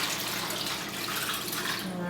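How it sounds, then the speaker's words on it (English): Brine poured from a container over a raw Thanksgiving turkey, a steady close splashing and gurgling stream of liquid that runs continuously for about two seconds and then eases slightly at the end. "now I'm just going to pour my brine right over my turkey here"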